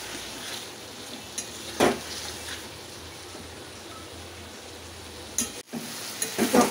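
Country chicken and tomato sizzle in a pan under a steady frying hiss, with a few scraping stirs and clinks of a spoon against the metal.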